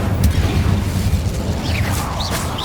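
An Incendio fire spell cast in Hogwarts Legacy during a fight in a mine: a dense, steady roar with heavy low rumbling throughout and a few short whistling chirps near the end.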